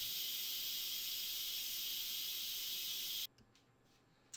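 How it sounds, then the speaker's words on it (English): Steam hissing out of an Instant Pot cooking BBQ drumsticks, a steady bright hiss for about three seconds that stops abruptly, leaving quiet room tone. "We'll let this steam for a little bit."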